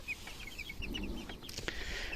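A young Pekin bantam hen gives soft, short clucks, a few quick chirpy notes close by with a faint rustle around them and no talking.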